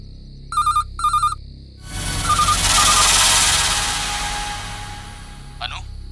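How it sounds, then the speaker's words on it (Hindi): A landline telephone rings in two short double bursts, loud and close, then gives way to a swelling noisy roar that fades out. "इस लैंडलाइन पर रिपीटेडली कोई फोन कर रहा है।"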